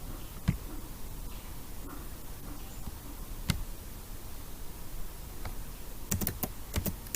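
Typing a search term on a computer keyboard, scattered light key clicks with a quick burst of several keystrokes near the end, close and fairly quiet over faint room noise.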